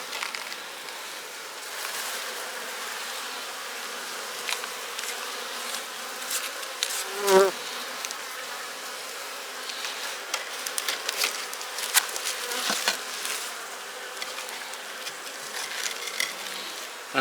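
Honey bees buzz continuously around a hive being prepared for a snow and ice storm, a steady droning hum with scattered taps and light knocks nearby.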